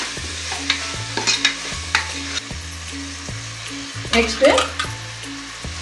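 Chicken with turmeric powder being stirred and fried in a pan for chicken pasta, a steady sizzle with repeated scraping stirs throughout and a louder burst of stirring near the end, a voice speaking briefly over it.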